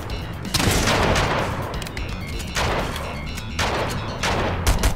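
Heavy gunfire in a Fortnite squad match: loud, sustained bursts of shots and booming impacts in several waves, close and intense throughout with no pauses into quiet.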